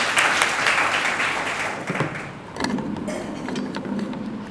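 Audience at a school Teachers' Day honours ceremony applauds, the clapping fairly loud at first, then thinning into scattered claps and a few sharp taps as it dies down.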